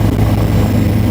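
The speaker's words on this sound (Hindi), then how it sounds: "उड़ चुका है हेलीकॉप्टर।" Helicopter lifting off on a passenger flight toward Kedarnath, with a loud, steady low rotor and engine drone that fills the clip without pause.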